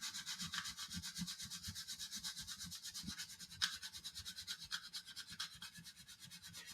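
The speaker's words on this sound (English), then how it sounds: "is to rub it with some sandpaper" Sandpaper rubbed steadily back and forth over the end of a roll of fabric, a continuous dry scratchy hiss with a regular stroke rhythm, close and moderately loud, no talking.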